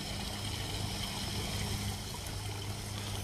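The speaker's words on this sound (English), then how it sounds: "our waterfall making this beautiful noise" Steady splashing water from a small backyard koi pond waterfall, a continuous broadband rush with a low hum underneath, close by and constant.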